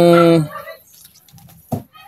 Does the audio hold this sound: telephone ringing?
no